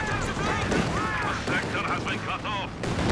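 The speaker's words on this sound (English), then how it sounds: "Close range Katyusha" Rapid barrage of Katyusha rocket artillery from Company of Heroes 2, loud dense bursts and whooshing launches rolling continuously at close range, with a voice talking over the battle throughout.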